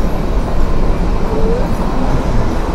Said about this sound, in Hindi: ये है ट्रेन, मस्त है यार, क्या नज़ारा दिखाते हुए चल रही है ट्रेन